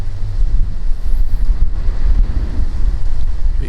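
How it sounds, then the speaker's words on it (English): Strong wind gusts across an open public-land field in Kansas, buffeting the microphone with a loud, low, rumbling roar that surges and eases throughout, with no one speaking. "I'm hoping when this wind starts to die down just a little bit"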